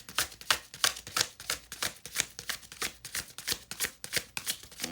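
Oracle cards shuffled continuously in the hands for a reading, a quick run of crisp, riffling flutters repeating in a steady rhythm, close and fairly quiet, with no talking.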